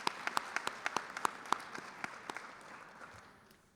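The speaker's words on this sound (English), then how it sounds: "a round of applause for our graduating seniors" An awards-night audience applauds graduating seniors: a burst of sharp, scattered hand claps from a modest crowd that thins out and fades over a few seconds, with no voices.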